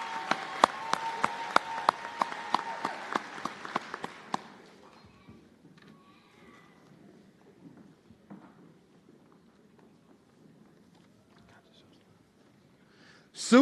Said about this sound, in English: another round of applause for this great group of students